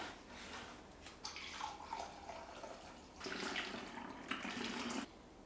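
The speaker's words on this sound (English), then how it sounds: "A little funnel here so I don't spill it everywhere." White vinegar poured through a small funnel into a bottle, a close, bright liquid trickle in two bursts with a short pause between.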